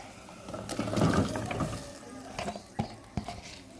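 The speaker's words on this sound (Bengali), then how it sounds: "বলক চলে আসছে এখন ফুলকপিটা দিয়ে দিব" Cauliflower pieces dropped and stirred into a bubbling fish curry of sarpunti fish, with soft sloshing and scraping in the pot, a burst of activity early on, then a few sharp clinks of the spoon against the pan.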